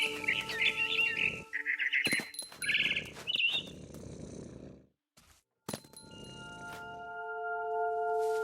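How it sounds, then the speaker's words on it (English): A barn swallow chirps in the video game What Remains of Edith Finch: quick bursts of bright twittering calls at the start, then sparse clicks and a steady low ambient hum, with no speech. "Then I heard chirping outside my window. It was a barn swallow going back to her nest."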